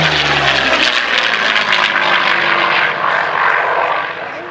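A P-40 Kittyhawk's piston engine and propeller roar loudly and steadily overhead through a display barrel roll at an air show, the pitch shifting as the aircraft rolls and then easing off near the end.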